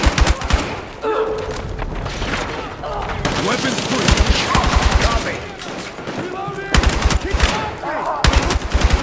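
Dense gunfire fills a Battlefield 6 campaign battle, with loud rapid automatic bursts and repeated shots nearby, shouted voices now and then, and continuous action until the end.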